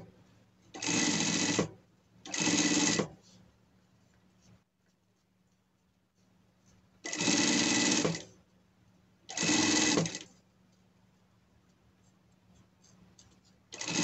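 A sewing machine stitches a seam on leather for a pet harness set in four distinct bursts, each lasting about a second, separated by quiet pauses.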